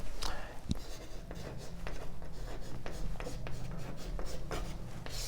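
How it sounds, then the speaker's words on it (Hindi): A teacher writes on the board during a physics lesson, making a close run of short scratching strokes that continue steadily throughout. "मैं यहां लिखता हूं"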